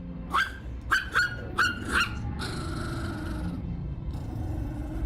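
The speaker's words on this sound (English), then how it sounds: "Tiny baby puppy." A tiny puppy gives four quick, high barks in a row, then trails off into a thin, drawn-out whimper, close by over faint background noise.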